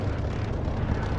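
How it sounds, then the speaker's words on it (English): A jet aircraft roars past in the DCS flight simulator game, a dense, steady engine rumble that fills the short moment loudly, with no talking. "I don't know what aircraft it was, but it was a jet"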